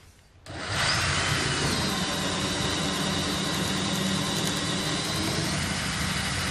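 After a brief quiet moment, an electric drill whirs up and bores steadily through a wood stud, a loud, sustained grinding drone that continues to the end.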